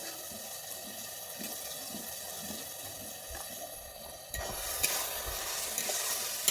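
Ash gourd curry being stirred after ground rice paste and grated coconut go in, a steady soft scraping and bubbling with a gentle sizzle, growing a little louder and brighter toward the end, no talk.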